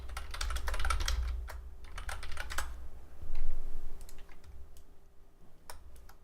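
Quick bursts of clattering keystrokes on a computer keyboard while items are renamed in Fusion360, coming in uneven clusters with short pauses, close and fairly quiet, with no speech.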